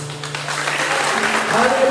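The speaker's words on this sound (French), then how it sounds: "Alléluia. Applaudis." A church congregation at a Sunday service in Léogane claps together in a dense, steady burst of applause, loud and close, with voices mixed in.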